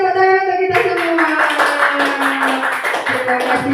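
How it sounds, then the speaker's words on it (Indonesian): A group of teachers and students at an elementary school claps together after a voice rings out, brisk hand claps continuing under some voices. "Terima kasih tepuk tangan untuk kita semua"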